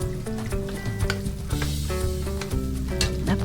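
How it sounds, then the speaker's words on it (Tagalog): Garlic frying and sizzling in a pan while being stirred for a carbonara, a steady close crackling hiss overlaid with sustained musical tones. "So ngayon po ay nilagay na po natin ang bawang. Medyo palalabasin po natin yung aroma niya."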